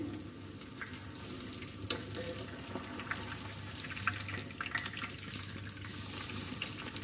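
Besan naan fries in a pan of oil with a quiet, steady sizzle and scattered small pops and crackles, faint and close with no talking.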